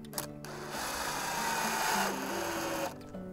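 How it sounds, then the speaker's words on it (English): A power screwdriver whirs for about two seconds, its whining motor climbing in pitch as it drives a screw into a barn wall, preceded and followed by brief clicks. "just use your screw gun to just screw them right into the wall"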